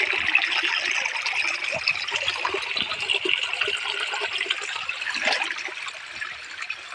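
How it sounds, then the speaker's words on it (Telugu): Water pours and splashes steadily nearby in a continuous bright flow, like a small waterfall, with no voices. "చూడండి ఎంత మంచిగా వస్తుంది వాటర్."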